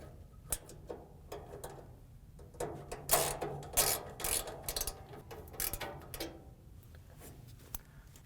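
A screw is driven in to mount a high-limit thermostat on a Whirlpool dryer, giving a run of quiet ratcheting clicks and short scraping turns in uneven bursts, close by and with no voices.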